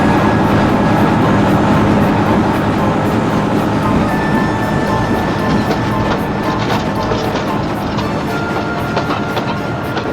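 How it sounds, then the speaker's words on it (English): A train rolling steadily into a station with a loud, sustained rumble and rhythmic clatter of wheels, close and constant throughout, with a faint high squeal midway. "It wasn't long until the steamer arrived at Crovans Gate just in time."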